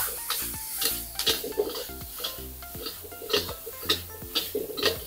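A spatula stirs beef chaofan with finely sliced cabbage, mushroom and sesame oil in a pan: repeated scraping strokes with metallic clinks over a soft sizzle, close and steady, with no talking.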